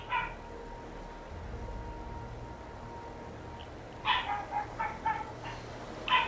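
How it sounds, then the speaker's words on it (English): A dog barking at something outside, a quick cluster of short barks toward the end over an otherwise quiet room. "She's barking at something outside."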